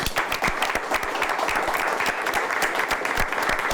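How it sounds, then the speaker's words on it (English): A studio audience at a high school quiz show claps for the alternate team members, a dense, steady round of applause from many hands, close and sustained throughout. "Let's give them a nice round of applause."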